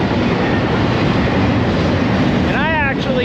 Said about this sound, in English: It's one of my favorite things about Glamis, hearing this train.